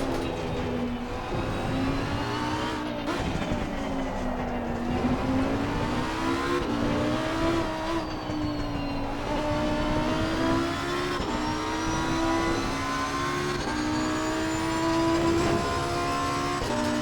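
A Lamborghini Huracan EVO2 race car in Assetto Corsa Competizione at Paul Ricard, its engine droning steadily and loudly with a rising and falling pitch as it accelerates and shifts down the straight, with occasional tire noise and no talk.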